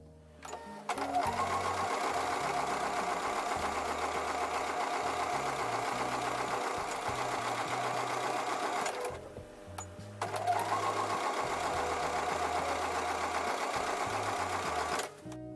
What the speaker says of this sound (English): take that over to the sewing machine and sew with a 1/4 inch seam allowance